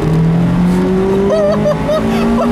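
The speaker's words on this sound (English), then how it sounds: "A little acceleration." A 2019 Mazda MX-5 Miata with a stronger naturally aspirated engine accelerates, its engine note rising steadily and loud throughout, with a person talking over it.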